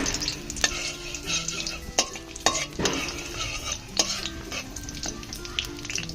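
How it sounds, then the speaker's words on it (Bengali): Dried red chilies and whole cumin seeds sizzle in hot oil in a kadai, a steady close frying hiss broken by spatula stirs and scraping clicks against the pan. "তেল একটু গরম হলে দুটো শুকনো লঙ্কা আর অল্প জিরে ফোড়ন দেব"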